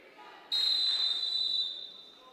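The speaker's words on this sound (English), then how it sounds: "There's the whistle, and we're underway." Referee's whistle opening a high school basketball game between Menomonie and Logan: one long shrill blast, loud and close over faint gym crowd noise.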